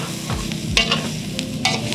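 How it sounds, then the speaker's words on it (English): Tofu sautéing with garlic and onions in a pan: a steady close sizzle broken by a few sharp scraping strokes of the spatula, with a low musical hum beneath. "we want to kind of like saute the tofus in, just to get like a coat of flavor coming from the garlic and the garlic and the onions"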